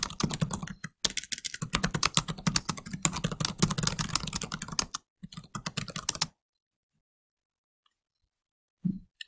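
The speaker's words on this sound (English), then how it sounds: "I've opened Word and I'll type a quick sentence." Rapid typing on a computer keyboard fills most of the stretch, dense close key clicks in quick bursts with a brief pause midway, then the clicking stops and near silence follows.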